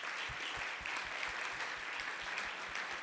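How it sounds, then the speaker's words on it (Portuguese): A church congregation gives a round of applause, with dense, steady clapping that sounds moderately distant and quiet. "Uma salva de palmas para essas pessoas"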